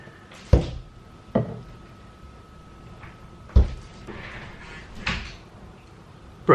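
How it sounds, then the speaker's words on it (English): A kitchen door or cupboard knocks and thuds several times in a quiet home, with sharp wooden bumps spaced a second or two apart and a faint hum between them. "The door was opening of my kitchen"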